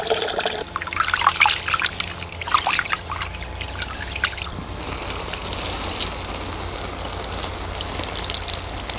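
Basmati rice is swished and rinsed in water, with splashing, trickling and sloshing that fades to a steady wet rush under light background noise.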